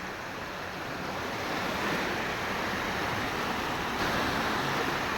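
Sea waves washing onto a beach on a warm evening, a steady broad roar of surf with some wind noise on the microphone, continuous and fairly close, with no voices.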